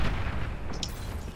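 A commander unit blows up in the real-time strategy game Beyond All Reason during a naval battle, giving a short, dense boom with a sharp crack at the start and then a rumbling tail with no talk.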